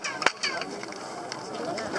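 A chirping, bird-like echo rings back from the Mayan pyramid of Kukulcan at Chichen Itza in Mexico after a sharp clap, a short faint series of pitched chirps.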